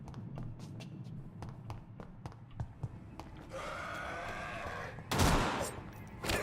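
Gunfire in the video game Vampyr comes as a run of sharp, close, rapid shots at irregular intervals, with a sustained rushing burst and then a louder blast near the end.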